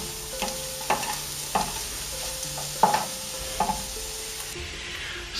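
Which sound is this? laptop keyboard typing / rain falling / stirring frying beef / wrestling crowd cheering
stirring frying beef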